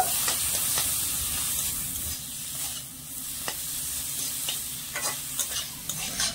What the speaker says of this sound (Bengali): তো এইবারে মশলাগুলো ভালো করে একটু মিশিয়ে নেব।